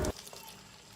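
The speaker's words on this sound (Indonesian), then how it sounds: "kemudian kita panaskan minyak, lalu kemudian kita goreng telurnya" Egg with chopped spring onion frying in hot oil, with a loud burst of sizzling as it hits the pan, then a steady, softer crackle continuing alone.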